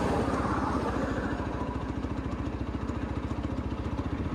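A TVS Apache RTR 160 4V motorcycle engine hums steadily at mid revs while moving up into fifth gear, a close, continuous pulsing drone with a faint rhythmic throb and wind noise and no clear break.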